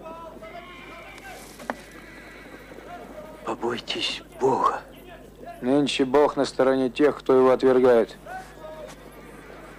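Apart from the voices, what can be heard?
horses neighing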